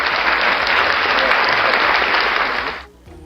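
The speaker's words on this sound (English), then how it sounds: "Oh, you applaud yourself." Applause fills a studio during a live air hockey show, a dense, steady wash of clapping from a small audience that holds loudly for nearly three seconds, then drops off abruptly into near silence.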